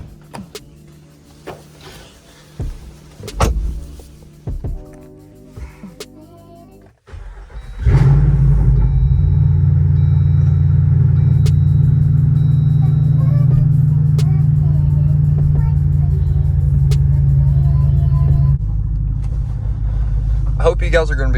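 Jeep Wrangler Rubicon 392 driven on winter backroads, its engine rising into a loud, steady low rumble that holds for most of the drive after a quieter start with someone talking close by.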